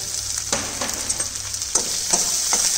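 Onions sizzling in hot oil with curry leaves, chopped chili, ginger and garlic: a steady close frying hiss, broken by a few soft scrapes as the pan is stirred.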